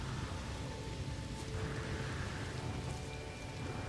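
Steady, even rain hisses across the whole span in No Man's Sky, a dense broadband patter with no talk over it.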